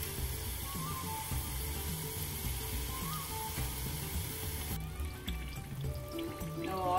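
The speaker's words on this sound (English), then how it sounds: "Let the muruk cook for slow in the oil." Murukku frying slowly in hot oil in a kadai, a steady dense sizzle and bubbling that runs continuously and fairly close, with small crackles on top and no voices.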